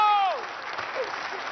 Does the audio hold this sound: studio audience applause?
yes